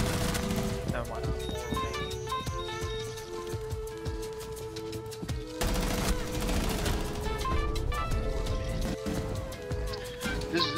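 Rapid gunfire in the Rainbow Six Siege video game from a gun with heavy recoil, as continuous loud bursts of shots layered with game music tones and other clutter, with a brief gap near the middle.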